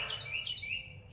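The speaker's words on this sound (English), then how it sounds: "Wow, that was a loud bird." Loud bird chirps ring out outdoors during a beginner HIIT yoga core and lower body workout, a series of bright repeated tweets close by over a steady low background hum.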